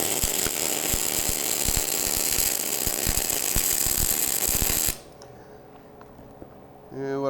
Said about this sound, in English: we'll go ahead and get this welded out